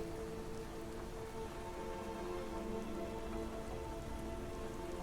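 Steady rain falling in the video game Cauldron Chronicles, a dense, even hiss of drops on surfaces that holds at a constant level throughout with no thunder or voices.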